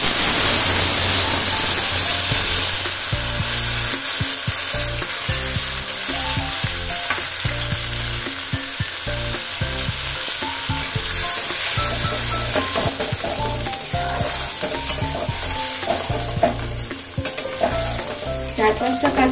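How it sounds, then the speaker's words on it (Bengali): Cumin, dried chillies and bay leaves hit hot oil with a loud, close, crackling sizzle, broken by repeated stirring scrapes in the pan as the spices fry for a Bengali bhetki fish dish. "এর মধ্যে আমি জিরে শুকনো লঙ্কা তেজপাতা ফোড়ন দিলাম"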